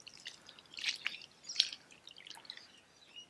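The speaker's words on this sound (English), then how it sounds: "What we want to do is then pour the water" Water is poured into the cups of a worm farm, producing faint, soft trickles and a few brief splashing drips that come and go quietly over several seconds.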